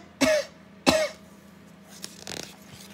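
Two sharp, close coughs in quick succession, followed by a few softer breathy sounds.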